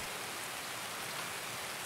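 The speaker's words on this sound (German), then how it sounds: "Der Regen tötet uns gerade." Steady rain pours down in Escape from Tarkov, a dense, even hiss of falling water that stays constant and close for the whole stretch, with no voices over it.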